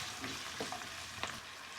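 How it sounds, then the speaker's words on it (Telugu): Tomatoes with curry leaves cooking in a pan, making a soft, steady sizzle with a few faint stirring scrapes, heard close and alone without speech. "ఇప్పుడు మనకి టమాటా మెత్తబడే వరకు కుక్ చేసుకోవాలండి."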